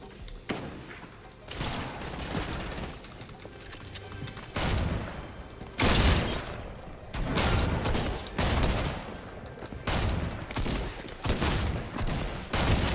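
Rapid bursts of shotgun fire in the video game OG Inaba, loud and close, landing in irregular clusters with thumping impacts and mechanical clatter between shots.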